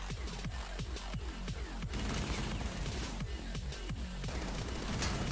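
Rapid bursts of gunfire from a weapon in the zombie shooter House of Zombies, a dense stream of repeated shots with quick strafing bursts, loud and continuous through the whole stretch.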